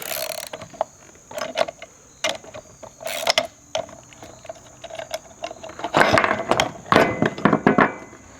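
Tools work parts loose from an electric fence reel, a close, loud run of clicking, ratcheting and metallic clanks in irregular bursts, busier toward the end.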